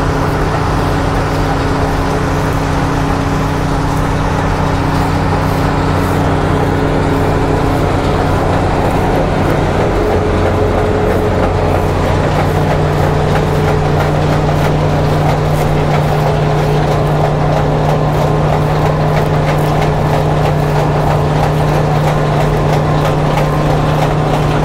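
A Fortschritt E524 combine harvester runs at harvest time, a loud, continuous engine roar with mechanical clatter and a steady hum that shifts in pitch partway through.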